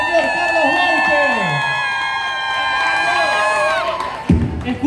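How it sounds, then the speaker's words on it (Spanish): Crowd at a shopping mall concert promotion event in Lima cheers and whoops, with a sustained tonal musical backdrop throughout and a louder burst near the end. "les pido un fuerte aplauso, por favor, para el señor Carlos Bauche."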